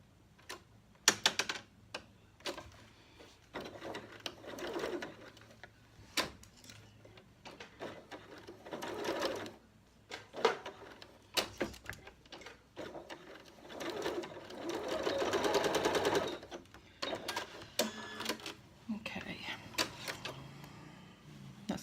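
A sewing machine stitches a zipped pocket into a bag lining, running in short rattling bursts and one longer steady run, separated by pauses and small handling clicks.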